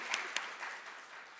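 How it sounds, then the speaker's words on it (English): Applause from a room of people, a brief stretch of scattered clapping at moderate volume with a couple of sharper claps early on. "I was going to do another round of applause too."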